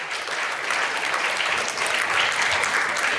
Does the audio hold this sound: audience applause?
yes